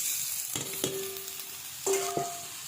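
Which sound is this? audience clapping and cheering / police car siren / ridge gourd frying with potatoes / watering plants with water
ridge gourd frying with potatoes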